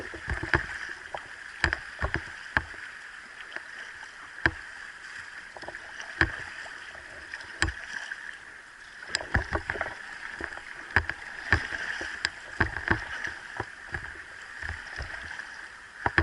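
A kayak paddles through rough river water, with repeated sharp splashes and paddle strokes over a steady rush of flowing, gurgling current and light wind noise.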